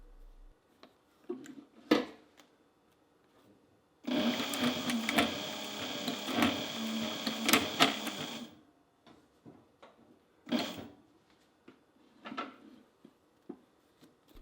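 A Cobra Class 20 sewing machine with a needle bar and hook timing fault runs in one loud, steady burst of rapid mechanical stitching lasting about four seconds, framed by scattered clicks and handling knocks before and after.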